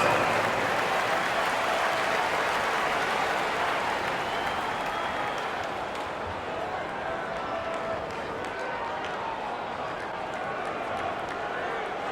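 Broad, steady roar of crowd applause and cheering at a basketball game, filling the whole stretch, with a dense wash of clapping and voices at constant loudness.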